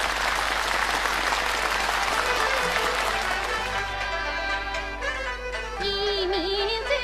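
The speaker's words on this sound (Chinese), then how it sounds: "热情的掌声" Steady, dense applause from a theatre audience at a Yue opera showcase, loud and continuous, tapering slightly as a sung or spoken voice emerges near the end.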